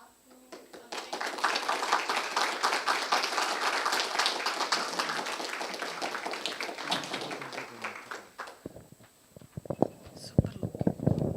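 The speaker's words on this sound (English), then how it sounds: "let's give a big clap" Audience applause at a GUADEC 2025 conference talk, a dense wash of many hands clapping that swells and holds for several seconds, then thins into a few scattered claps before a voice starts speaking.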